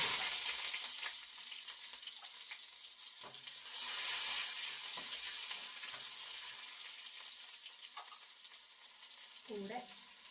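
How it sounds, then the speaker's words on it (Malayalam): Chopped shallots frying in hot coconut oil with popped mustard seeds, a continuous hissing sizzle held at an even level, with a few light utensil clicks and a brief knock near the end. "നമുക്കതിലേക്ക് കടുക് വറക്കാനുള്ള ചെറിയ ഉള്ളി അരിഞ്ഞത് ഇട്ട് കൊടുക്കാം."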